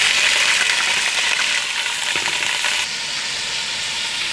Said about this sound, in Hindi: तेल हमने गरम कर लिया है, इसमें हम हल्दी डालेंगे।